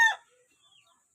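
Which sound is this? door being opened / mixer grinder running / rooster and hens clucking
rooster and hens clucking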